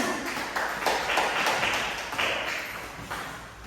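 Scattered clapping from a classroom of students, a quick burst of sharp hand claps that stays moderately loud and close before fading out, with no voices over it.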